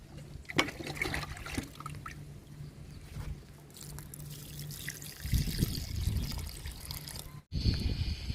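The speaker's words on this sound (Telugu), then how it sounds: "ఈ మొక్కకు కూడా ఇస్తున్నాను లిక్విడ్." Liquid fertilizer trickles and splashes onto a young ivy gourd plant, a faint steady pour that grows fuller and louder toward the end, with a brief break before a final splash.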